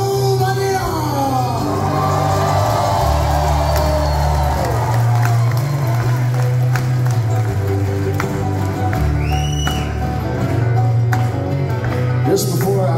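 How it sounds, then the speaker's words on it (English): A concert crowd at a show bursts into sustained applause and cheering, loud and continuous, with whoops rising over the clapping and a PA voice or music passing underneath. "Let's give yourselves a huge round of applause"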